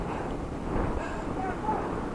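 Wind buffeting a microphone during a bicycle ride toward the Pililla windmill farm, a low rumbling gusty roar that swells and eases in short surges, close and steady.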